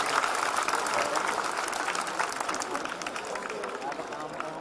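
Audience at a Rajesh Chetan comedy event breaks into sustained applause, a dense steady wash of many hands clapping that carries through the whole stretch with a faint murmur of voices underneath.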